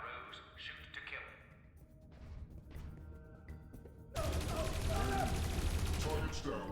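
Gunfire in the game Dreamfall Chapters starts quietly among voices, then erupts into a dense, loud, sustained volley of shots that swamps everything.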